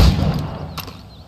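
Gunshots at practice targets in Assassin's Creed Rogue: a sharp, loud report at the start that quickly fades into a short echoing tail.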